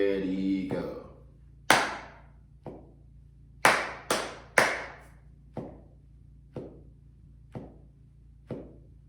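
Sharp hand claps ring out alone in a slow, uneven rhythm of long and short notes, about ten crisp claps with quiet gaps between them in a quiet room.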